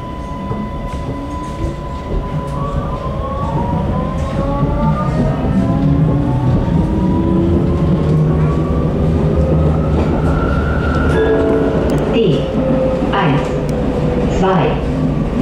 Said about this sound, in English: Lokalbahn nach Baden.